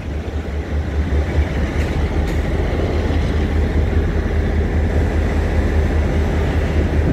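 The CT273 steam locomotive, coupled with an R175 diesel-electric engine and a blue power car, pulls out of Hualien station in Taiwan, making a loud, steady, deep rumble and mechanical roar that persists throughout without pause.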